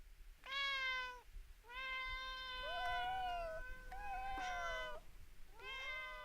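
A cat meows several times in close succession, drawn-out plaintive cries with short pauses between them, heard up close over a quiet background.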